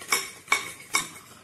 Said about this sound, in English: You can do it also with a fork